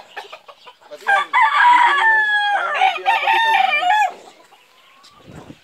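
A Sweater-breed gamefowl rooster crows nearby, one long drawn-out cock-a-doodle-doo lasting a few seconds, with faint clucking before and after.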